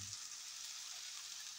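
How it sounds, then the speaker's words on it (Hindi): Masala with turmeric and chili fries in a pan, giving a steady, soft hiss and sizzle that stays even throughout without any talk. "भून लेते हैं अच्छी तरह।"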